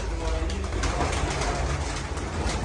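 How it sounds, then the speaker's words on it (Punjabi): Several racing pigeons coo continuously in a dense, low murmur, with a busy background hum filling the space. "ਦੇਖੋ ਬਈ ਕਬੂਤਰ"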